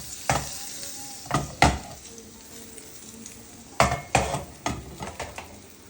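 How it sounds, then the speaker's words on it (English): Butter sizzles under French toast in a pan: a soft, constant frying hiss broken by clustered scrapes and taps of a utensil against the pan, close by. "Now I'll add some more butter to the side and move it around"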